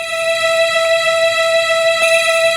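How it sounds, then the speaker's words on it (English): A sustained, harmonically dense drum and bass synth pad sample holds steady at a loud level throughout, with faint soft clicks at intervals. "The famous drum and bass pad sample sounds like this."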